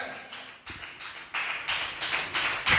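A church congregation claps their hands in loose bursts that build and grow louder. The claps are fairly close and are heard without talking.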